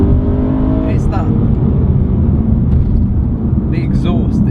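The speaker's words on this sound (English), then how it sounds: "the exhaust is insane on this. It's a very different tone to yours." A Mercedes C63 AMG or BMW M3 exhaust rumbles loudly and close up with a deep, continuous droning tone, while brief faint voices cut in now and then.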